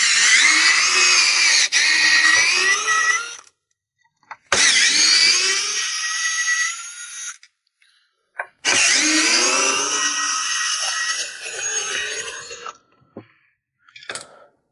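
A power screwdriver whirs loudly through three long bursts, driving out screws from a Bull desk lamp during repair, with short gaps between runs and a brief final blip near the end.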